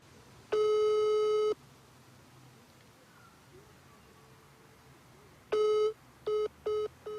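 A telephone call to city hall in Pryluky, Ukraine, goes unanswered: a steady electronic tone sounds for about a second, then returns after a pause, followed by three shorter beeps, all over faint background hiss.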